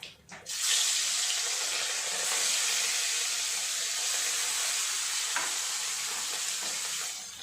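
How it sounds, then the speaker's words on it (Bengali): Rohu fish pieces frying in oil in a pan, a loud, steady hiss of sizzling that swells in after a brief start and holds evenly, close and without talk. "একইভাবে আমি বাকি মাছগুলো ভেজে নেব"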